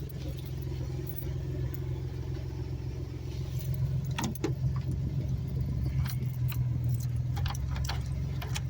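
Key rattling and clicking in a frozen truck door lock on a cold day, with jangling keys and a short burst of sharper clicks and scrapes midway, over a steady low engine rumble.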